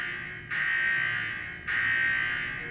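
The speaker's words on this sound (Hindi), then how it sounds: "हम अलार्म भी देना चालू कर दिया है" A Dahua intrusion alarm hub sounding its alarm: two loud, piercing electronic tones, each starting abruptly and holding for about a second, close by with no talk over them.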